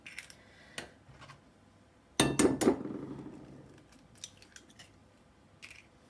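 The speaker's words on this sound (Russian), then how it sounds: "Вбиваю сюда яйца." Eggs are cracked into a container while poaching eggs, with a sharp cluster of crunching shell taps and clinks in the middle, a few lighter knocks before and after, close and without speech.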